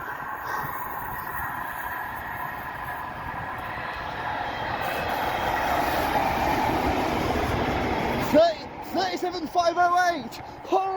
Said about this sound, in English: we'll see you guys when the next train pulls in